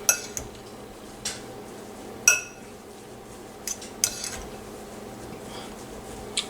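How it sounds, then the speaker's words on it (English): Cod fish cake mixture is mixed in a bowl, with intermittent utensil clinks and scraping knocks against the bowl, sparse and close amid a quiet background. "We're going to start the mixing process here."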